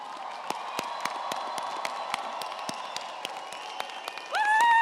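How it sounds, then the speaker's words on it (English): Audience at a Medicine Hat College convocation ceremony for the class of 2025 applauding standing graduates, a steady wash of clapping with sharp individual claps, ending in a rising cheer. "I ask that the graduates now rise as we applaud their success one last time."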